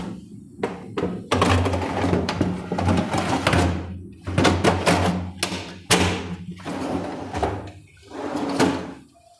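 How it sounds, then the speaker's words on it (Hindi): A Hettich tandem box drawer fitted into a marble kitchen cabinet slides in and out repeatedly, with loud close thunks and rumbling runs on its rails, and no voices. "एकदम परफेक्ट तरीके से हमारा जो ट्रॉली है वो चल रहा है।"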